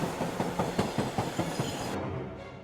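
Train sound effect in a horror story: a train's wheels clatter in a rapid, even clickety-clack rhythm, close and moderately loud, then cut off to a fading hum.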